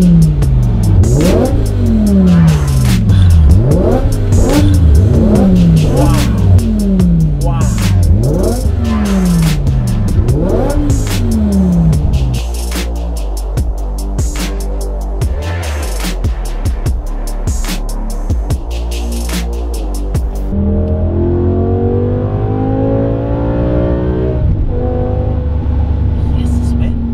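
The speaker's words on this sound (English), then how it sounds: "This has to be one of my all-time favorite engines of any car ever, the V10 BMW engine." A tuned BMW V10 car engine revs hard over and over in rising, howling sweeps, then drops to a burbling idle before climbing again, loud and close throughout.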